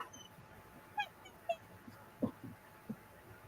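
Puppies give several soft, high whimpers and short yips, spaced irregularly over a few seconds, quiet and close by.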